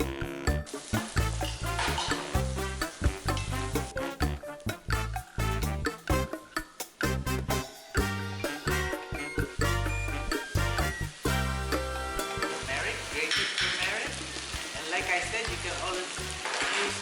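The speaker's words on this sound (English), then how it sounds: "When it reaches 100 degrees centigrade, I'm going to start sauteing." Garlic sautéing in hot oil for Filipino chicken with coconut turmeric sticky rice, crackling and sizzling loudly and continuously close by, with stirring clatter throughout.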